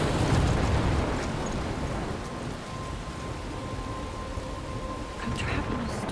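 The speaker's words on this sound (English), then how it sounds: "I'm trapped in a storm?" In the video game Life Is Strange, a thunderstorm brings steady heavy rain with loud rumbling thunder that swells at the start and again near the end, filling the scene without pause.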